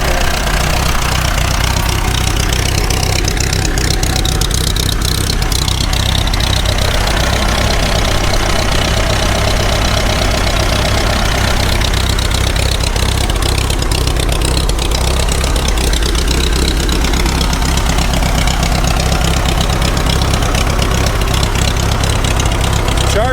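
Farmall Diesel 350 tractor idling after sitting unused for years, a loud, steady, close diesel clatter with low rhythmic knocking that runs unbroken throughout.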